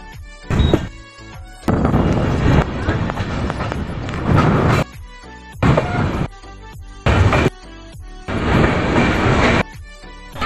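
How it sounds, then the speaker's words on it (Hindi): An Intercity Express train pulling out of a station in Bihar, India, recorded from inside a general coach: rumbling motion, rhythmic clickety-clack and thunks of wheels over rail joints, loud and close, in bursts. "2 मिनट हॉल्ट के बाद अपनी ट्रेन का डिपार्चर हो चुका है कोपड़िया से"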